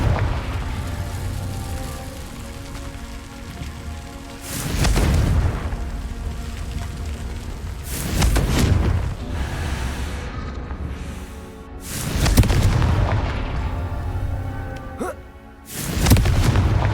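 Confringo fire spells blast repeatedly during combat in Hogwarts Legacy on PS5, with loud booming bursts arriving every few seconds over a steady game soundscape.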